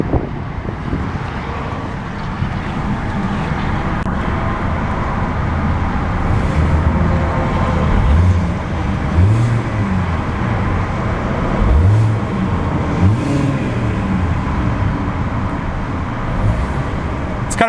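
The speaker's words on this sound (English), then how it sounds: "let's see about a few revs of that newly revised 4-cylinder power plant" The four-cylinder engine of a 2015 Hyundai Sonata SE revs up several times from idle, each rise and fall clearly audible over a steady hum with some wind noise, and nobody speaks.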